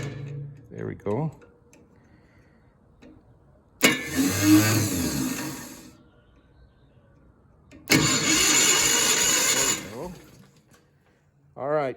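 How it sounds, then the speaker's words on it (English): Starter motor on a Miller Bobcat 225G engine-driven welder cranks the engine in two loud, sustained bursts of about two seconds each, with quieter pauses between them and brief voices at the start and end. "Looks like the starter's working."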